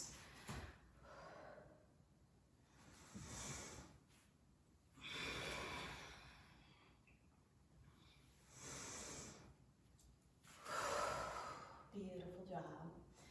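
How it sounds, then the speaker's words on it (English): Slow Ujjayi breaths during a vinyasa yoga flow, drawn in and out through the nose as soft, rushing hisses that rise and fall in a steady cycle every few seconds. "Staying with your Ujjayi breath, breathing in and out through your nose."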